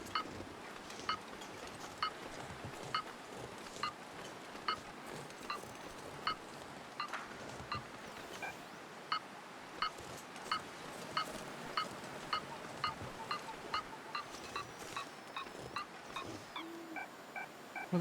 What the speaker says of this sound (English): the beeping though, it's getting better. Louder,